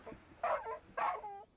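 A dog gives two short, yelping barks a half second apart, each trailing into a brief whine, fairly quiet and close, over a low background hum.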